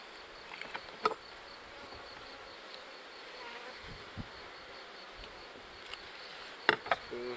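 Honeybee colony in an open hive, a faint continuous buzzing hum with a few brief sharper clicks and taps over the drone.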